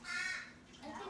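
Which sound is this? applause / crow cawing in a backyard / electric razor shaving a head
crow cawing in a backyard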